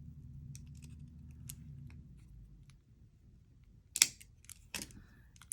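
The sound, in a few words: cutting a cable chain for a wire-wrapped necklace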